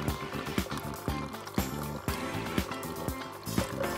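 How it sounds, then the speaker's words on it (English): A Nescafe Dolce Gusto Genio coffee machine runs its rinse cycle with the lever set to cold, giving a rhythmic pumping pulse about twice a second over a continuous flow of water. "Genio will start rinsing."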